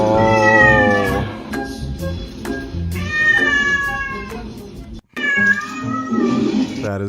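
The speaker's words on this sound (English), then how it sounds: "That is a sweet kitty." A cat meows loudly and repeatedly, drawn-out plaintive cries in a run of several calls with brief pauses between them, close and clear.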